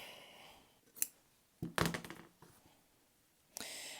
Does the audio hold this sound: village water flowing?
no